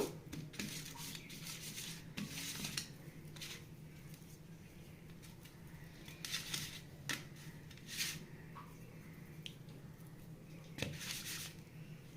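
Raw hilsa fish is mixed by hand with turmeric and chili powder, giving faint, soft rubbing and squishing sounds in short bursts, with no voices.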